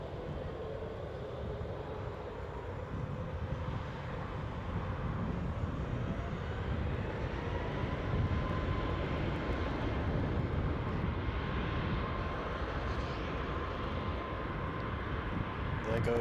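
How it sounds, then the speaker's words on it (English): A Boeing 737 MAX 8 jet airliner takes off from Newcastle airport under overcast skies, a steady broadband engine roar holding loud and constant throughout. "There goes our Boeing 737 MAX 8. In that beautiful Chewy livery that always gives off holiday vibes as it jets into the sky"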